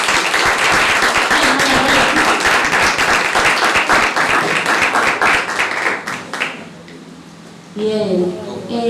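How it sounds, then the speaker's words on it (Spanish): Loud sustained applause from a theatre-event audience honouring a puppetry organiser, dense clapping filling the first six seconds, then thinning out before a voice begins speaking near the end. "Un aplauso muy grande."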